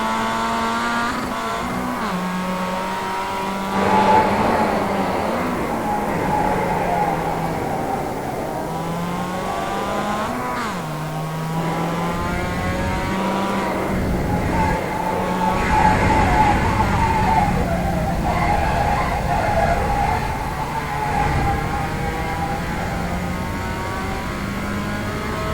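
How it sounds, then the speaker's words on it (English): A race car in a racing video game keeps its engine droning and shifting pitch through the corners, with tire squeals rising over the steady mechanical roar throughout. "You can hear the tires squealing, so the car's being tested pretty good here in the corners."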